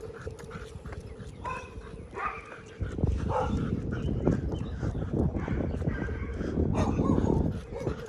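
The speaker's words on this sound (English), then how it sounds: "Big old dog with a little squeaky bark" A big dog gives a string of high, squeaky barks and yips amid outdoor rustling and shuffling in a Sebring, Florida neighborhood.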